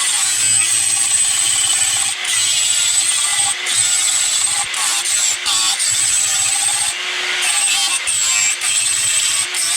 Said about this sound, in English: come in with my flat wheel, and I'm going to sand down the whole thing